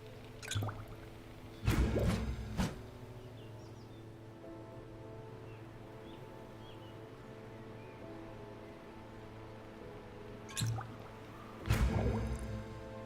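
In the V Rising video game, a character drinks water, giving a few short wet gulping and sloshing bursts separated by quiet, set against a soft steady background hum.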